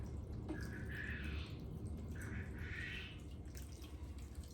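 Water mixed with plant food trickles and splashes in two short pours into a kumquat plant pot, a soft liquid stream over a low background hum.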